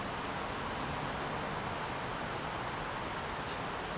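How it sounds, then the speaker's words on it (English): Heavy rain falls outside the Imperial Hotel on the Gold Coast, a steady, dense hiss of broadband noise with no breaks, fairly faint and even throughout. "it started to rain really, really heavy."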